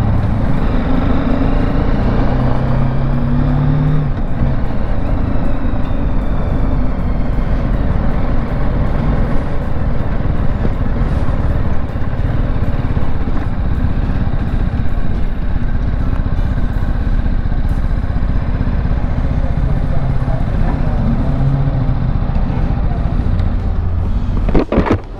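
Riding a brand-new 2022 BMW G310GS motorcycle, with steady engine drone and wind rush continuing throughout, loud and close, no speech heard.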